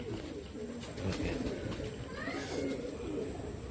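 Long-distance Madrasi Kabootar pigeons in a loft coo in low, murmuring bursts, muffled and continuous within a noisy room ambience.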